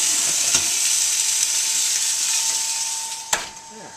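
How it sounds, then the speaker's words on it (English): Fish sizzles steadily in hot oil in a cast iron pan during indoor grilling, a dense, even hiss that holds throughout, with a single sharp clink near the end. "And that's sizzling away."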